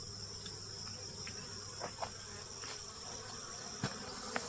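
Honey bees from a late-season caught swarm, handled on frames during a hive transfer, give a steady, fairly faint buzzing drone with a few brief louder passes and no voices.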